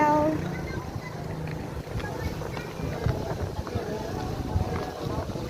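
Wind blows outdoors, rumbling steadily across the microphone as a constant low buffeting, while a person talks briefly at the start.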